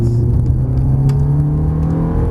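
A Ferrari F430 accelerates on the Trappes circuit, its engine a loud, close, continuous roar that holds a steady droning pitch throughout.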